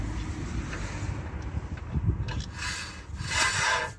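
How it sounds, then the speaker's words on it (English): A slight scraping rub from a Rover 75 brake as the wheel is turned by hand, a soft continuous friction with a few faint knocks, heard up close with no talking. "Got ever so slight rub."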